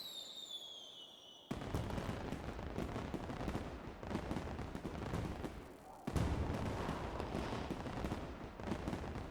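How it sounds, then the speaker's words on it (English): Fireworks at a New Year's festival in the video game StarSavior, heard as dense, continuous crackling bursts and booms that swell loudly after a quieter opening and keep rolling, with a fresh surge midway through. "Fireworks from the New Year's festival."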